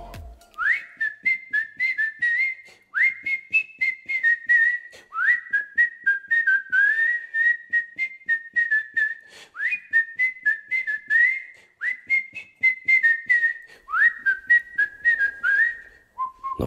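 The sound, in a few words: person whistling merrily while walking through a forest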